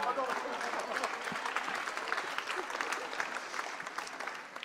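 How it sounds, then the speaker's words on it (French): Audience at a conference on music, communication and management breaks into dense, sustained applause that fills the room evenly throughout, with some crowd voices mixed in. "Bonjour Miguel, on peut l'applaudir et l'encourager"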